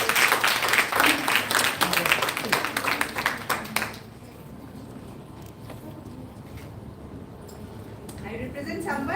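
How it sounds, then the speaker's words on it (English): Audience applause at a nutrition conference session, dense clapping for about four seconds that then cuts out, leaving quiet room tone and faint voices. "And I request the audience to give a big round of applause."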